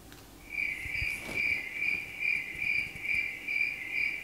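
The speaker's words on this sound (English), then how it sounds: "So yeah, I really love that cricket sound effect." A cricket chirping sound effect plays from a Lego treehouse light kit: a steady pulsing trill repeated about eight times at an even rhythm, moderately faint and clear, with no speech.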